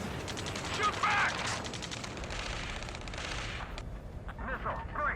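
Gunfire in the Ace Combat 7 video game: dense rapid automatic bursts rattle continuously under shouted voices, loud and close, easing near the end.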